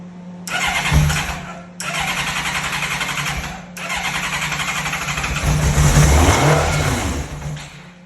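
A Honda CBR 1100 Blackbird motorcycle, stored for many years with carbs needing cleaning, cranks over with a starter whir in three close attempts, then catches and settles into a loud, rough, steady idle.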